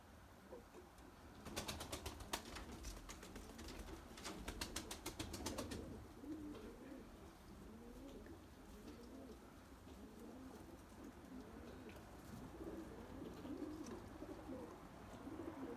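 Young limoni breeding pigeons gather at freshly poured feed, cooing steadily nearby, with a stretch of rapid wing flapping and scuffling early on before the low cooing carries on alone.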